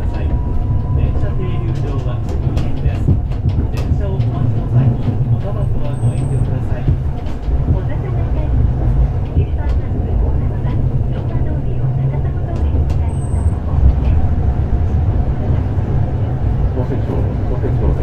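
A Hakodate City Tram 3000-series tram on route 5 rumbles steadily along its rails, with a low continuous roar, faint rattles and a recorded Japanese announcement voice over it.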